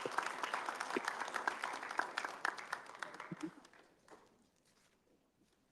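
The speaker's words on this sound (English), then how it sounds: "Let's give the sergeant the round of applause." Applause from a town hall audience at a community college in Philadelphia, a dense clatter of clapping hands that holds steady for several seconds, then thins out and dies away.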